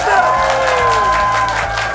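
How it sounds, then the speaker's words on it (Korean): A studio audience at a talk concert claps and cheers in a short burst, with whoops and a rising voice over steady applause. "박수 한 방이요"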